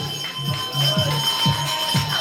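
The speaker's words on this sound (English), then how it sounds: "The bell sounds, and now Porter comes up alongside Johnson." The final lap bell rings at a velodrome track cycling race, a steady run of evenly spaced clanging strokes about half a second apart, heard over crowd ambience with faint voices.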